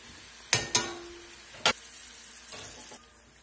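Onion rings fry in vegetable oil at about 350 degrees, giving a quiet, steady sizzle broken by a few sharp metallic clinks and taps close by.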